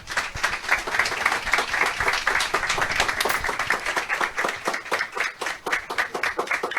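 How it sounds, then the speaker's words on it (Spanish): An audience at a science lecture on giant dinosaurs greets the speaker with sustained, dense applause, loud and steady throughout with no talking over it. "a quien recibimos con un fuerte aplauso"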